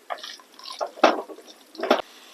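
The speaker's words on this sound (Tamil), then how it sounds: "நான் மசாலா அரைச்ச மிக்சி ஜார்லயே கொஞ்சம் தண்ணி ஊற்றி இதுல சேர்க்கிறேங்க" Water poured from a mixer jar into a simmering jackfruit seed kuzhambu, a few short splashy gushes and drips close by, no talking.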